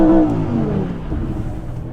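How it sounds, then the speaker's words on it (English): A remapped family car launching hard in launch control, a loud close engine roar that rises briefly then settles into a strained drone over about two seconds. "my car actually went into launch control that time"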